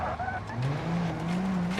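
A Toyota Camry 3.5 accelerates hard through a village, its engine note climbing steadily in a low drone after a brief higher squeal, loud and close.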